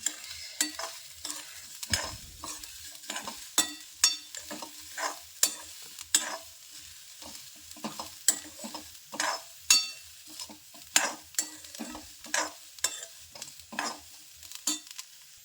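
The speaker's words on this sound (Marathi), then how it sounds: "आता कढईमध्ये तेल टाकलं, मटकी फ्राय केली" Moth beans fry and sizzle in oil in a wok while a spatula scrapes and stirs in sharp, irregular strokes, close and clear.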